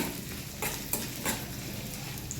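Mango seed kernels roast in hot ghee over low heat, giving a steady close sizzle broken by a few soft scraping stirs of a spoon in the pan.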